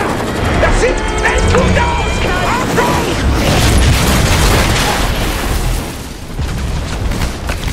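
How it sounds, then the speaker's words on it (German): Chaotic loud gunfire and explosions as a helicopter attacks in the video game Army of Two: The Devil's Cartel, with rapid metallic rattling bursts over a steady roar of battle. "Kapellhelikopter! Wir werden beschossen!"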